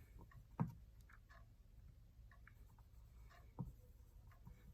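Pen writing on paper during a handwritten maths explanation, faint soft scratching strokes with two sharper taps, very quiet and close in an otherwise still room.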